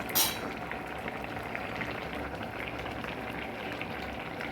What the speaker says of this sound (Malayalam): മീന് അങ്ങനെ തിളച്ച് വെള്ളം കുറുകി വന്നിട്ടുണ്ട്